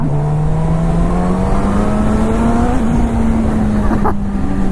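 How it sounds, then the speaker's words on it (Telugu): A Suzuki GSX-S1000 superbike engine revs loudly and up close, its pitch climbing steadily as the bike accelerates in second gear with traction control on level 3. "I'll show you the power of this bike."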